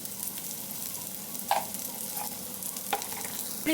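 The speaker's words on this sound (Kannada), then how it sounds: "ಈಗ ಈರುಳ್ಳಿ ಆ್ಯಡ್ ಮಾಡ್ಕೊಳ್ಳೋಣ ಒಂಚೂರು ಉಪ್ಪು ಆ್ಯಡ್ ಮಾಡ್ಕೊತೀನಿ" Chopped onion with a pinch of salt fries in a pan with a low steady sizzle, broken by a few distinct spoon scrapes and taps, close and moderate, with no one talking.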